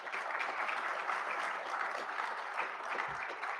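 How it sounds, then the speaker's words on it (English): Steady, even applause from the audience at a military change of command ceremony, many hands clapping together at a moderate distance, sustained without pause and heard alone. "Please give a great round of applause to all our ceremony participants and all those who helped organize today."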